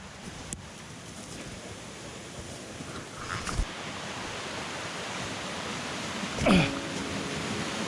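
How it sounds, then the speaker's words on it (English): A constant rushing wash of falling water from a small waterfall fills the clip, broadband and steady, with a couple of faint knocks and a brief close rustle. "But this also looks like a nice little waterfall."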